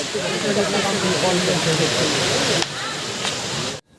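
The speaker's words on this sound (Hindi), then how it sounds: "जब पानी गिरता है तो मधुमक्खियों की तरह साउंड करता हुआ सुनाई देता है" Waterfall dropping about 150 feet, a loud, steady broadband roar and hiss filling the whole stretch up close, briefly shifting in level before cutting out at the end.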